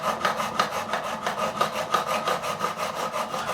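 A metal file rasps across the ends of guitar frets during a refret of a Michael Kelly Patriot Premium guitar, steady back-and-forth scraping strokes repeating rapidly and closely without any talk.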